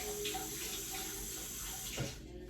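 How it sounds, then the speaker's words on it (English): Tap water runs steadily into a sink as hands are washed beneath it, a continuous close splashing rush with a brief louder splash near the end, no talking. "let me just wash my hands right quick"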